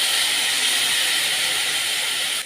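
Tamarind juice poured into a hot pan while cooking bitter gourd palya, giving a loud, steady bright sizzle and hiss that holds evenly for a couple of seconds before dropping off at the end.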